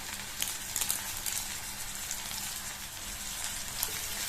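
Small onions, green and dried chillies and curry leaves sautéing in hot oil give a soft, steady crackling sizzle with scattered faint pops, quiet and unbroken.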